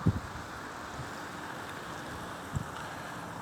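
Steady wind rushing outdoors, a broad continuous hiss with a couple of soft low thumps of gusts buffeting the microphone.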